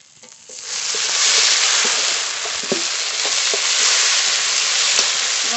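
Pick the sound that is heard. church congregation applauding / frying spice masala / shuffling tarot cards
frying spice masala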